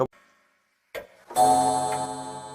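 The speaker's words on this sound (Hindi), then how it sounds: "ठीक तभी घड़ी के घंटे की आवाज़ से" After a couple of soft knocks and a brief silence, a single resonant clock bell strikes and rings out, its tone slowly decaying, in a horror comic narration.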